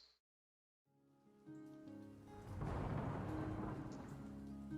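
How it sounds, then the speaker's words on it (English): A thunder sound effect follows a brief silence, building into a deep rolling rumble, then a dense wash of steady rain continues loudly. "a loud crack of thunder roils above"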